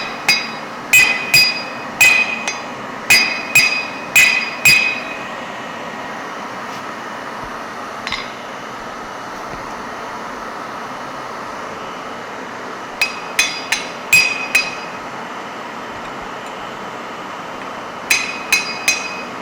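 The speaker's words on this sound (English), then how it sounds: "Then apply hammer on the head." A hammer strikes heated metal held on a heading tool during hand forging, ringing clinks in quick bursts of four to six blows with pauses between, loud and close.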